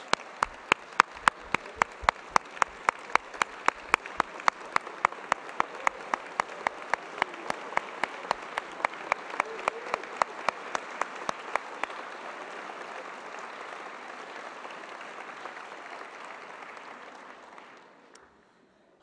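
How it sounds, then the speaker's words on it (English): A standing audience at the 2018 Cal Poly convocation ceremony gives a long round of applause, dense clapping with loud individual claps near the mic, sustained for over fifteen seconds before fading out. "Let's stand and give them one last round of applause."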